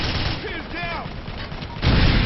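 Anti-tank rocket fire in the battlefield game Operation Flashpoint: Dragon Rising comes through as rattling gunfire and whistling under a radio voice, ending in a sudden loud, heavy blast.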